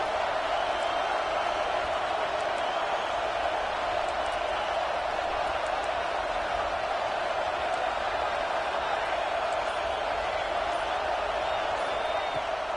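Stadium crowd noise fills a college football game in NCAA 26 on a fourth-down defensive stand, a constant loud roar that holds steady with no breaks.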